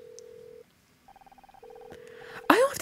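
Telephone dialing tones in the video game Murder by Numbers: a steady dial tone, a quick run of evenly spaced keypad beeps, the tone again, then a sudden loud burst of noise at the end.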